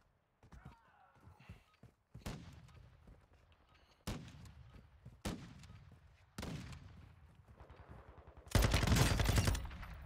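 Video game gunfire in Modern Warfare 2 / Warzone 2.0: a few separate sharp bursts spaced a second or two apart, ending in a louder, sustained rattle of automatic fire.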